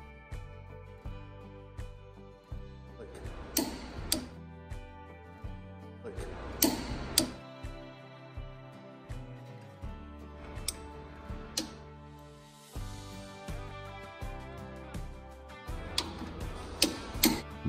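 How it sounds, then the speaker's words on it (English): A torque wrench tightens bearing bolts on a Hud-Son Patriot sawmill, producing sharp clicks at irregular intervals over a steady, tonal mechanical hum. "Now it's time to torque the bearings into place."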